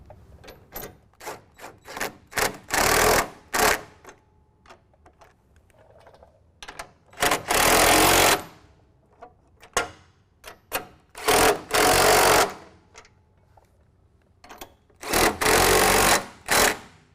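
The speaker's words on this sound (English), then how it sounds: "take our 18mm socket and tighten these bolts down" A ratchet with an 18mm socket tightens the bolts of a Hammerhead LED bull bar on a 2017 Ford F-250. It gives several close, loud runs of rapid clicking separated by short pauses and quieter handling noises, with no one talking.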